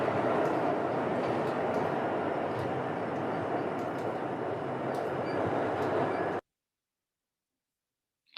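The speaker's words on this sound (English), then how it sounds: "You guys hear the subway car coming?" A J train on the New York subway rumbles steadily into the station, loud and close, then the sound cuts out abruptly near the end.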